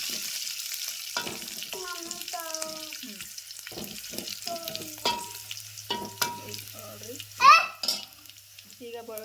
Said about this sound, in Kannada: ಬೆಳ್ಳುಳ್ಳಿ ಸ್ವಲ್ಪ ಫ್ರೈ ಆದ್ಮೇಲೆ